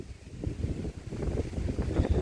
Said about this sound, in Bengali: প্রচণ্ড হাওয়াও চলছে আজকে